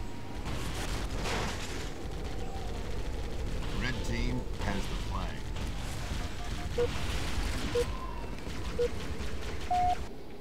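Continuous rapid machine gun fire in the Halo Custom Edition multiplayer map Sidewinder during capture the flag, dense and sustained under constant game noise and explosions.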